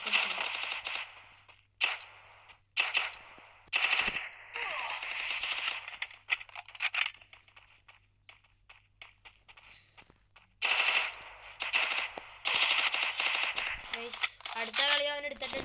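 Gunfire from the Free Fire video game during a headshot attempt: rapid automatic bursts repeat across the clip, loud and close, with a player talking between and over the shots.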